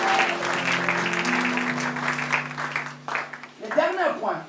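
An audience claps in a crowded gathering, the applause swelling around a voice speaking over it and rising again near the end.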